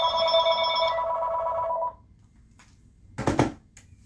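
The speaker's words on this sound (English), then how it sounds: "so the phone's ringing." A telephone rings with a steady electronic tone for about two seconds and then stops. A short burst of another noise follows, and no one speaks.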